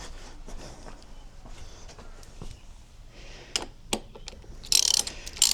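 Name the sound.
loosening DRZ400 fuel tank bolts with a wrench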